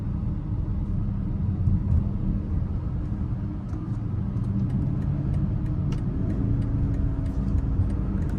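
A 2025 BMW X5 M60i engine pulls hard in sport mode while merging onto the interstate, a steady loud low rumble with road noise, alone with no talk.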